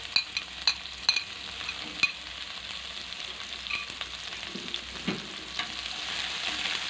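Sliced lemongrass and chili fry in hot oil in a pan, a continuous close sizzle broken by sharp clicks as a utensil stirs the pan.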